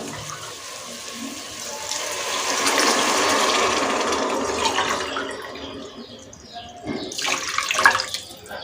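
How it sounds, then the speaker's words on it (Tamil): Water pours steadily into a cooking pot with biryani rice, a rushing, splashing sound that swells midway and then tapers off, followed by a few clinks and a final splash. "இப்போ இதுக்கு தேவையான அளவுக்கு தண்ணி சேர்த்துடலாம்"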